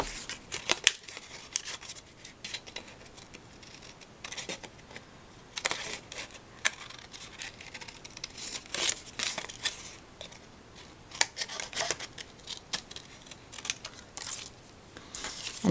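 Scissors cutting out a paper letter for a MERRY Christmas banner, with repeated crisp snips in uneven bursts and brief pauses, paper rustling faintly between cuts, close and quiet with no speech.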